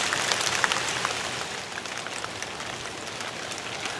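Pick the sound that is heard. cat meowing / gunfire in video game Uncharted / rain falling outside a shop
rain falling outside a shop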